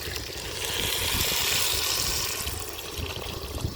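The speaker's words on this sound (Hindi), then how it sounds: "अभी इसमें पानी डालेंगे।" Water pours steadily into a cooking pot of roasted rice on a village-style clay stove, a loud, close, continuous rushing splash that swells and then eases slightly.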